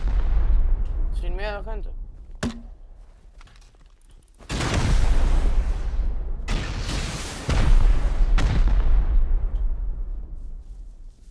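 In the survival game Rust, turrets are blasted during a raid with heavy booming explosions and bursts of gunfire. The blasts come in several loud, ragged waves, and excited voices talk in between and over them.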